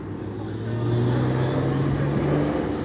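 A car engine hums steadily at close range, with a low droning tone that swells slightly as it settles into a running idle.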